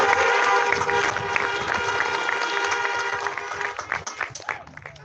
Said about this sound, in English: let's give these 3 retiring teachers a round of applause